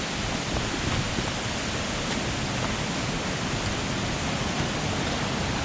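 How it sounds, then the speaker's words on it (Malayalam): Marmala Waterfalls in a forest rushes with a steady, dense roar of falling water, loud and unbroken throughout with no voices. "വെള്ളച്ചാട്ടം പൊളി നോക്കിയേ"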